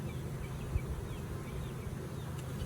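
Honey bees buzz at an open hive during a beekeeping inspection while frames are moved to make splits: a soft, continuous, even drone that stays faint and steady throughout.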